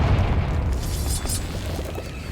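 Confringo blasting spell exploding in the Hogwarts Legacy video game, a loud, dense rumbling blast that fills the whole moment without a break.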